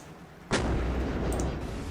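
Torpedoes and bombs bursting in a naval strategy game battle: a loud, sustained roar of explosion and gunfire that begins abruptly partway in and continues densely to the end, with no talk.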